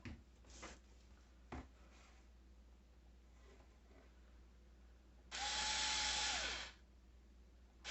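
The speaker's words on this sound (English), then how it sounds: "then we're gonna drill our second hole." A power drill whirs loudly for about a second and a half, its motor pitch dropping as it winds down, amid quiet surroundings with faint clicks.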